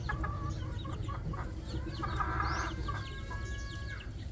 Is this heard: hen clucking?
yes